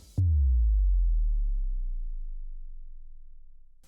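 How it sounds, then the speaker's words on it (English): A deep sub-bass hit lands suddenly and then slides downward in pitch, slowly fading over a few seconds with no other sounds. "I added a sub drop for you."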